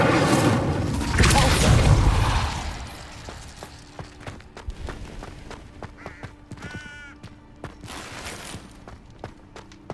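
A fire spell cast in the Hogwarts Legacy video game erupts in a loud, roaring burst that fades over about three seconds, followed by quieter scattered impacts and magical chimes.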